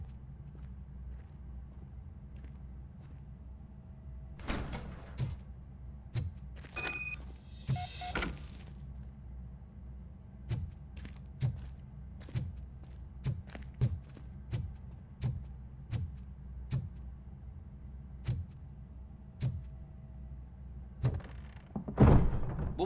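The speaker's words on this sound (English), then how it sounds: "Now let me get that door open for you." A series of heavy thunks and clanks in the Robocop: Rogue City video game, with a door mechanism working amid steady heavy footsteps and a low ambient hum.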